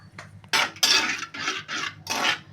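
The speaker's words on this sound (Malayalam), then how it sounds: "ഇനി ഇളക്കി കൊടുക്കണം. ഇങ്ങനെ ഇളക്കി കൊടുക്കണം, ഇല്ലെങ്കിൽ തൈര് പിരിഞ്ഞു പോവും." A ladle scrapes and clinks against a metal pot while stirring curd (yogurt) over a low flame for kumbalanga kichadi, several separate rasping strokes, close and moderately quiet, no talk.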